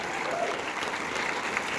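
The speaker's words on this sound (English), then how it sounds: "One last round of applause for the whole Mutt." Brief, dense applause from a theater audience following a film screening and Q&A, steady and evenly sustained clapping with a faint murmur of crowd underneath.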